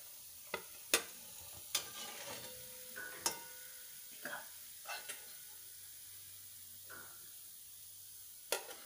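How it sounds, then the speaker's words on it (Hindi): Homemade biscuits deep-fry in oil with a soft, steady sizzle, punctuated by sharp clicks and scrapes from stirring at irregular intervals. "अब हम बाकी बचे हुए बिस्किट्स को भी ऐसे ही फ्राई कर लेंगे।"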